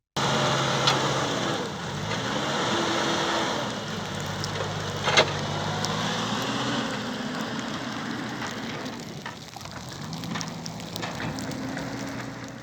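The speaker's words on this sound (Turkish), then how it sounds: "Yok yok kurtarıcı araba gelmiş." A tow truck arrives on the Kuşyuvası road near Alanya, closed by heavy snow, its engine rumbling and shifting pitch under a constant hiss of rain.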